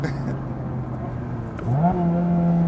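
A Honda S2000 sports car driven hard, with a steady engine drone that swells midway into a rising rev, heard from inside the car.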